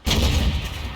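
A single heavy tank cannon shot in a World of Tanks-style battle game, a sudden loud boom with a rumbling low-end tail that lingers and fades over the second.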